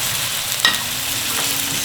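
Onions and mixed peppers frying in a pan for a chicken and mushroom quiche, a steady close sizzle with a short stirring clatter near the middle and no talking.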